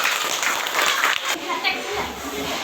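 Children in a classroom clap together, a dense burst of hand claps mixed with young voices and chatter, loud and close throughout.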